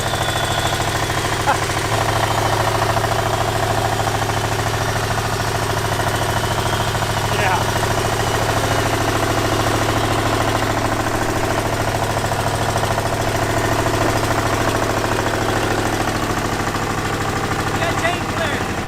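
Chinese diesel V-twin engine fitted to a go-kart, idling steadily with a loud, rhythmic knocking chug that stays constant and close throughout.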